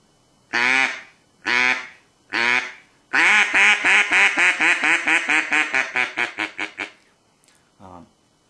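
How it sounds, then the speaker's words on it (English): A hand-blown duck call quacks loudly up close: three drawn-out quacks, then a rapid run of a dozen shorter quacks tapering off, ending with a soft final note. "we're just going to try to elongate the first quack to make it sound a little bit louder"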